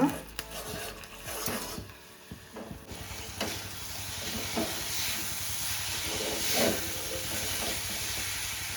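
Grated coconut filling for sweet turmeric-leaf kadubu cooking in a pan, giving a soft steady sizzle and hiss with intermittent stirring scrapes, close and moderately loud.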